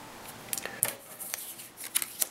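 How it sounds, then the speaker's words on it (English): A board-game event card is flipped and handled on the table: a handful of light, crisp papery snaps and slides, soft and close, scattered irregularly over a quiet background. "We flip the Dansgaard Ushka card."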